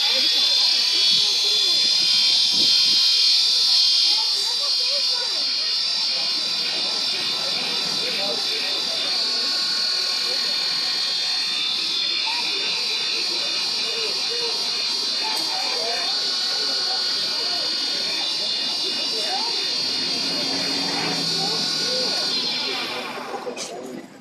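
A lathe spins a handmade pen during its final finishing pass, giving a steady, high-pitched whirring hum that runs unbroken for over twenty seconds before winding down at the end.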